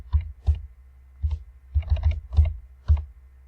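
Computer keyboard keys clicked in short irregular bursts while entering an equation into Desmos, about eight close, crisp taps spread over a few seconds in a quiet room.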